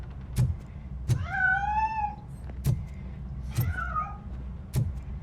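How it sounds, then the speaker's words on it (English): A cat in the video game RoboCop: Rogue City meows twice in clear rising-and-falling cries while escaping, set over soft, regular thumping steps and faint background ambience. "That cat must be hiding inside. Let me lure it out."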